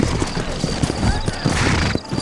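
Horse hooves clip-clop at a steady walk close by in the Red Dead Redemption video game, with a whinny in the mix and someone talking over the sound.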